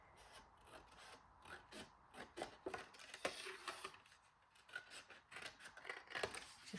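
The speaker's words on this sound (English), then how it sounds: "I'll just use my scissors just so you can see how it looks." Scissors snip through single-sided patterned scrapbook paper, making quiet, closely spaced crisp cuts and rasps that carry on steadily while a folio folder is being made at a craft table.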